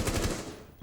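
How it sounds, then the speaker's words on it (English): Rapid automatic gunfire rattles in a competitive shooter match, a quick loud burst of several shots fired into a wall, close and punchy. "But a bit of gunfire goes to the wall, pre-fires."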